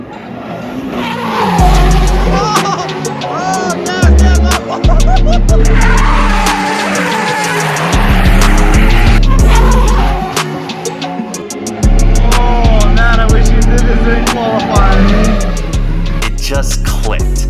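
A drift car on a track in Japan slides through repeated long skids. Loud tire squeals come in bursts between engine revs and gear changes, close and continuous for most of the stretch.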